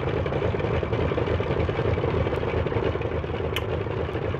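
A Kyushu J7W Shinden aircraft engine idles in a flight simulator, giving a steady, dense mechanical drone with no pauses and a few faint clicks over it.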